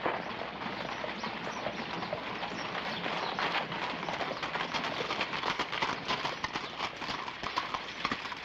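Steady clip-clop of horse hooves over a dense outdoor noise bed in the 1961 Western film The Deadly Companions, continuing evenly throughout at moderate loudness, with faint bird calls mixed in.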